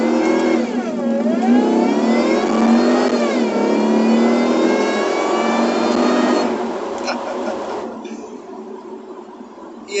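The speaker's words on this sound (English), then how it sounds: "No turbo sounds, just pure supercharger." A Jaguar XKR with its supercharged 4.0 engine fitted with an upgraded supercharger pulley revs hard, a loud rising engine note with supercharger whine climbing steadily for several seconds before easing off and fading.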